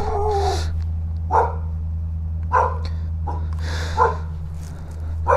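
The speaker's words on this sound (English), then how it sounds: "my neighbor's dogs" Several sharp dog barks and yips come at intervals over a constant low hum, spaced a second or so apart, fairly close by.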